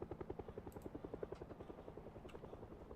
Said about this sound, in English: Right now, I have a helicopter problem.